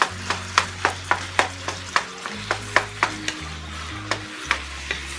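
Browned ground meat is stirred and scraped in a frying pan in a steady rhythm of soft clacks over a constant low sizzle of grease. No one speaks.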